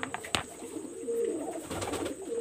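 Pigeons coo in a loft housing Pakistani high-flyer pigeons in Khulna, a low murmuring call running through most of the moment with a few sharp clicks and rustles near the start.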